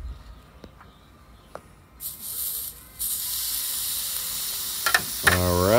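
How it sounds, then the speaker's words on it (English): A steak drops onto the hot Grizzler plate of an Ooni Koda 16 oven and breaks into a loud, steady sizzle after a quiet start with a few light knocks. A brief rising squeal comes near the end. "And then we're going to put the steak on."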